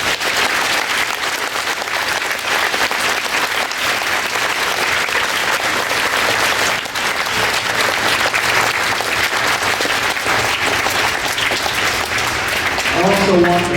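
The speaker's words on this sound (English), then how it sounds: "so please give them a round of applause." Sustained applause from an audience at a school Veterans Day assembly, honoring band and choir students after their performance; dense, steady clapping fills the hall throughout, with a voice briefly rising near the end.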